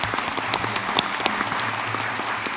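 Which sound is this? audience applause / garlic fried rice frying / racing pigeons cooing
audience applause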